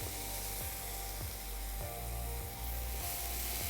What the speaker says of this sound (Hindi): इसे 1 से 2 मिनट भूनेंगे।